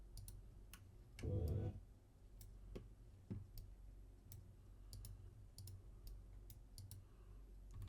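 Quiet, sparse mouse clicks sound while faces are selected in Onshape CAD software, scattered single ticks over a faint background hum with one brief louder thump near the start.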